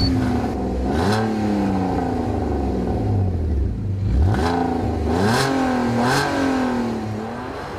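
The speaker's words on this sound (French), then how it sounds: "Les pots d'échappement laissent filer une sonorité extraordinaire, celle d'un des V6 les plus délicieux du marché" An Alfa Romeo GT Coupé with a 3.0 V6 petrol engine starts and is revved several times, the exhaust note climbing and falling in repeated close, loud sweeps over a rumbling idle.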